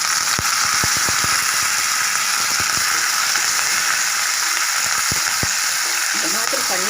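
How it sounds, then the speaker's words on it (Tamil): Curry leaves hit hot oil already holding garlic for a beetroot stir-fry, giving a loud, steady hiss of sizzling with scattered sharp pops and crackles throughout, and a brief voice near the end. "அடுத்தது கறிவேப்பிலை போடுறோம்."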